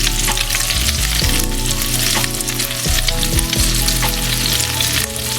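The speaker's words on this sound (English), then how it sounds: "we got our meatballs cooked, pretty much caramelized on all sides" Meatballs sizzle and fry in a hot pan, browned and caramelized on all sides, giving a steady loud crackle with occasional stirring or shifting in the pan and no talking.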